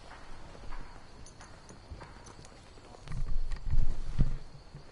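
A horse's hooves clip-clop in the Skyrim video game, a faint irregular patter that grows louder and heavier near the end, with other game ambience underneath.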